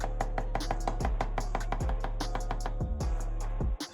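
A knife chops quickly on a cutting board while food is sliced into square pieces for a crab and water spinach dish. The loud, close, rapid strikes keep a steady rhythm with a low hum underneath and stop abruptly at the end.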